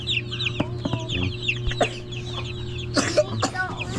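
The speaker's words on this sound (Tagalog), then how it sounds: "Ayan yung mga sisiw natin yan guys. Isang linggo na sila ngayon." Week-old chicks keep up a busy chorus of high, overlapping peeps and chirps with a few soft clucks, close by over a steady low hum.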